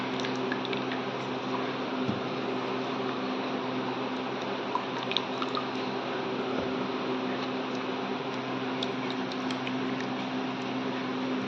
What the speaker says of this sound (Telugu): ఇప్పుడు ఇట్లా గట్టిగా పిండి రవ్వని ఇట్లా వేసుకోవాలి.